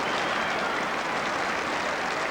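Broad, steady roar of a modest football crowd applauding a save at a Rangers match, distant and washy, filling the whole moment without any voices on top.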